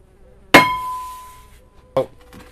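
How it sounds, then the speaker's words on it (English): Two hard hammer blows on the metal shell of an automatic transmission torque converter to break a weld: a loud ringing clang that decays over a second, then a shorter, duller strike, close up. "I'm gonna break that weld."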